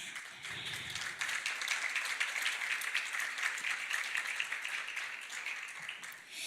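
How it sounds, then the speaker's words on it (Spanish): An evening audience at a talk on abortion applauds as a guest speaker is invited up, a sustained patter of many hands clapping at moderate distance, fairly quiet overall and swelling slightly at the end. "vamos a darle un aplauso y pedirle que él pase por acá"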